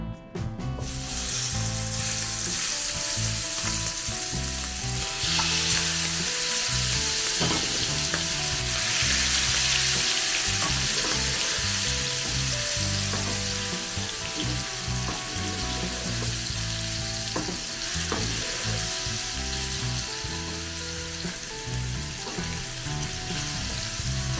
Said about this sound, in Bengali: এবার ফ্রাইং প্যান বসিয়ে তাতে একটু সাদা তেল দিয়ে দিলাম, দিয়ে তেলটা বেশ গরম হলে তারপর চিংড়ি মাছগুলো ফ্রাই করে নেব।